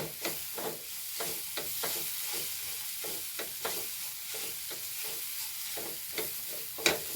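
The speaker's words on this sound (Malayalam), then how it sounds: "നല്ലോണം ഇളക്കി കൊടുക്കാം" Mixed vegetables with garam masala being stirred in a pan, repeated quick scraping strokes in a steady rhythm over a low frying sizzle, close by and fairly quiet, with no voices.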